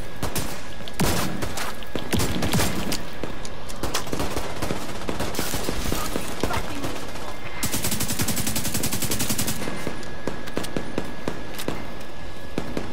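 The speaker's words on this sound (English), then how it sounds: "Where is the officer shooting at?" Gunfire in The Division 2 shooter game, dense continuous bursts of automatic fire and rapid shots, loud and close, sustained throughout with a sharp machine-gun rattle in the middle.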